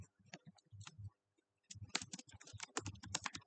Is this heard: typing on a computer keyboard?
yes